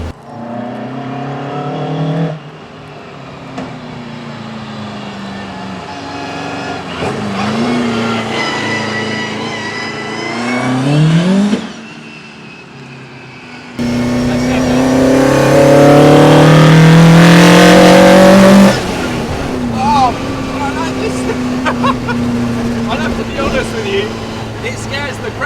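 An Austin Healey Sprite fitted with a Japanese engine revs hard and loud, the pitch sweeping up through the gears to a high scream before dropping back. Voices talk over the engine noise from inside the car.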